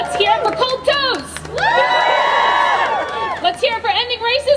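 Outdoor protest crowd in Denver cheering and whooping loudly, a dense wash of shouts rising and swelling for several seconds in the middle, with voices calling out around it.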